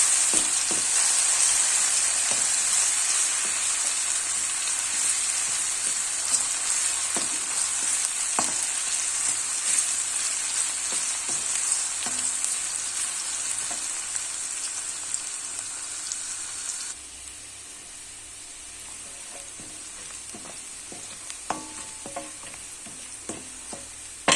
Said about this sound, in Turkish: Arkadaşlar patatesi kavuracağım.